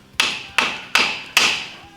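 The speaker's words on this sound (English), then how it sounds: "So you just hammer that one in flush." A hammer drives a tapered cone adapter flush into a Jeep tie rod end, four sharp metallic strikes at an even pace, each ringing briefly before the next, close and loud.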